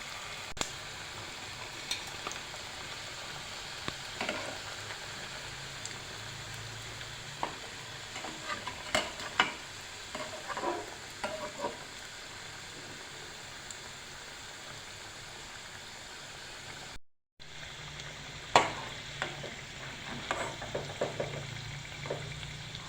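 Khaja pastries fry in hot oil over a low gas flame, giving a soft, steady sizzle with occasional light stirring clicks and a brief dropout partway through, no talking.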